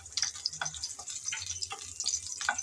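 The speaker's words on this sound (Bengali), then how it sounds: "এখন নেড়ে চেড়ে লাল লাল করে ভেজে নিতে হবে রসুনগুলো।" Chopped garlic and dried red chillies frying in oil for a jute-leaf dish, a soft steady sizzle broken by faint scraping stirs, close and without talk.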